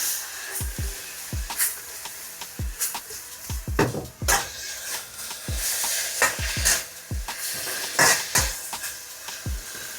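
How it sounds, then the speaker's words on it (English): Shrimp fried rice is tossed and stirred in a hot pan, with rhythmic metal scrapes and knocks recurring every second or so over a continuous sizzle, close and fairly loud. "Get your little couple tosses in there."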